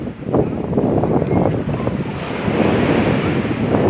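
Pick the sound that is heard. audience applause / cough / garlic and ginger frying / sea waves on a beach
sea waves on a beach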